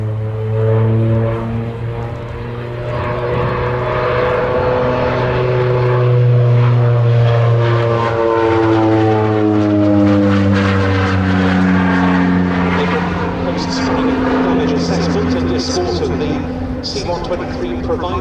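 A North American OV-10B Bronco twin-turboprop from a demo team flies a display at an air race day, its loud, steady propeller drone holding close and strong with gently shifting pitch as it passes, speech faintly mixed in.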